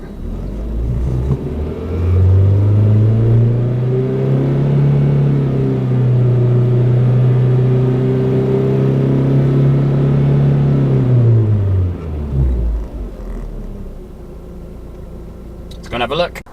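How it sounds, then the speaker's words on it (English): An Audi engine is revved and held near 4,000 rpm, a loud, deep, steady drone that swells up, sustains for about ten seconds, then falls back to idle, with a brief clatter at the end. "We're going to rev the Audi."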